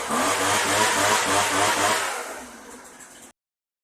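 A 2010 Poulan leaf blower's small two-stroke engine runs loud and close, holding a high buzzing rev before dropping off, sputtering as if about to choke, then cutting out.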